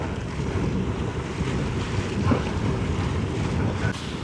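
Strong wind buffets a sailing boat at sea on a passage from the Isles of Scilly to St Michael's Mount, a steady close roar of wind noise mixed with rushing waves, with no talk.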